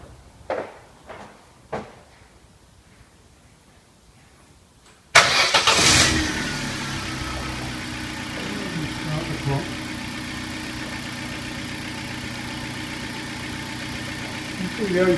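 A car engine starts abruptly after a few faint clicks and knocks, firing with a loud crank-and-catch burst, then settles into a steady, even idle for the remaining ten seconds, with no one speaking.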